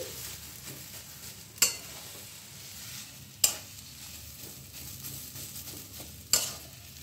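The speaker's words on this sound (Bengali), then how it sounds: "গরম মশলাটাও ভালোভাবে মিশিয়ে দিচ্ছি" Chicken filling sizzles in a pan as garam masala is stirred in, a soft continuous fry broken by three sharp spoon knocks against the pan at irregular intervals.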